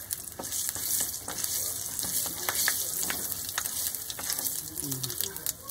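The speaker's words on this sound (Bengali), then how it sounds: "সমস্ত মশলাগুলোকে দিয়ে আমি খুব ভালোভাবে তেলের সঙ্গে নেড়ে নিলাম" Whole spices, including cinnamon, dried red chillies and a little cumin, fry in oil while being stirred. A dense, close sizzle runs throughout, broken by frequent scraping stirs.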